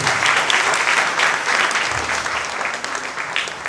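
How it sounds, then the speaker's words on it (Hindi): Steady, fairly loud clapping from a gathered audience, continuous and even in density for the whole stretch with no voices over it. "सबके लिए ताली हो जाए"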